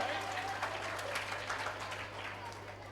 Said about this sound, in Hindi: बहुत लोग ताली नहीं बजा रहे हैं, क्यों? एक बार जोरदार बजाइए